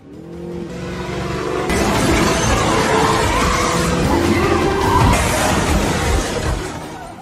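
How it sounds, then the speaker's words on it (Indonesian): A car speeds away to evade an attack during a tense action-movie chase, its engine revving loud and sustained with possible tire squeal over a dense score-like backdrop. "Ia hanya bisa mengandalkan kecepatan mobil untuk menghindari serangan dari Dante."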